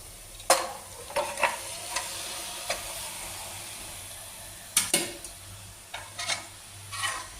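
Chicken pieces being stirred into a hot pan with onions for an oil-free chicken gravy, giving scattered scraping and stirring clatters over a soft, steady sizzle, fairly close and moderate in level.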